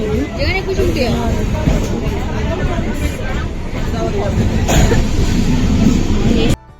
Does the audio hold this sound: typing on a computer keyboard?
no